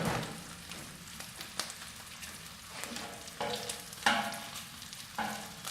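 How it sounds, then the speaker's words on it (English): Bacon sizzles steadily on a Camp Chef FTG600 flat top grill, a dense crackling hiss with occasional sharper pops and scrapes, close and continuous with no talking. "let this bacon cook a few more minutes here"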